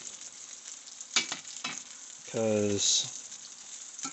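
Chicken browning in a frying pan before going into a crock pot for a pot roast: a soft, steady sizzle runs throughout, with a brief clatter and short speech in the middle.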